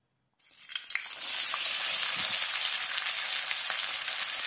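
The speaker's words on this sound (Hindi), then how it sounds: "तेल जो है वो बढ़िया तरीके से गर्म हो चुका है, अब हम इसके अंदर जो है अनियंस डाल देंगे।" Finely chopped onions, about seven of them, hit hot oil for a bhuna chicken masala and start frying, a loud sudden sizzle that swells within a second and holds as a dense, steady hiss.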